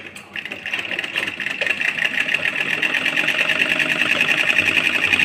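Sewing machine stitching a pocket onto ladies' pyjamas, starting with a few clicks then running continuously in a fast, even whirring rattle that grows louder and steadier.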